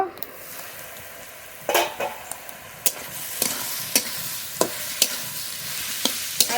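Spices stirred and frying in a pan for a steamed rohu fish dish, a steady close sizzle broken by sharp spoon scrapes and clinks against the metal pan at irregular intervals, with no talking.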